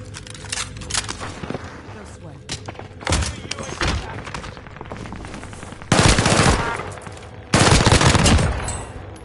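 Rapid gunfire in a multiplayer shooter video game, with a sniper picking off a player from a rooftop, loud sustained bursts and heavy thuds broken by pauses, with players talking over the shots.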